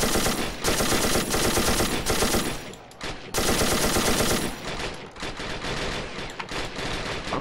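Sustained machine gun suppressive fire in a Call of Duty 1 mod of Men of War: Assault Squad 2, loud rapid bursts with brief gaps, overlapping guns rattling almost continuously.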